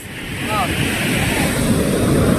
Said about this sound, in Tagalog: Grabe ang lalaki ng alon, no?